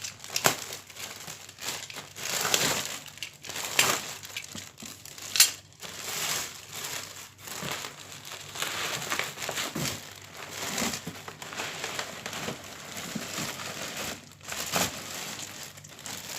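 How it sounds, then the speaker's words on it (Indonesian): Bubble-wrap plastic packaging being pulled off an AC fan, with close, loud crinkling and crumpling in irregular bursts, some sharper rustles and short pauses, and no talk. "rupanya cukup menggunakan ya plastik bubble tadi ya. Kita coba buka lagi"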